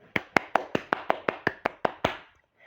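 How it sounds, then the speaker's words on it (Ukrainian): Children clap their hands about eleven times in an even, brisk rhythm. The claps are close and crisp, and a short quiet pause follows. "А давайте ми з вами разом поплескаємо в долоні."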